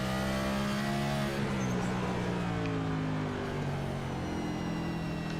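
A race car engine in a sim racing game at Martinsville drops a gear, with revs rising and falling in a steady, close, droning howl as the pitch shifts.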